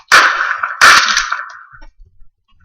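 Two sharp gunshots from the video game Deadbolt, loud and close, each followed by a short fading tail, then near silence.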